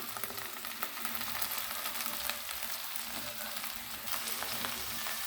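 Okra fries in a pan on low heat with a steady, fairly quiet sizzle and faint crackles that continue throughout.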